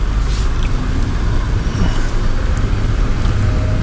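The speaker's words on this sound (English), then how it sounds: "there goes a car right there" A car passing on a nearby highway heard from a rural farm road, a steady broadband roadway rumble with strong low-end traffic noise throughout, no distinct voices.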